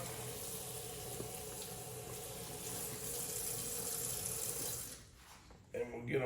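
Tap water running steadily into a sink while beef ribs are washed, a continuous close splashing rush that drops off near the end as the flow changes, with brief handling noises.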